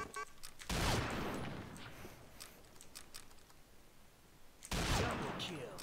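Bursts of gunfire from the Combat Arms shooter game, two loud volleys roughly four seconds apart with a softer rattle of clicks and shots between them.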